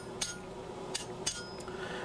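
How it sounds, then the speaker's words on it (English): Hammer striking a chisel to cut through hot metal at a forge while making a Viking-age pan: four sharp, loud metallic clanks spaced irregularly, with no talking. "So now hitting quite hard to cut through the metal"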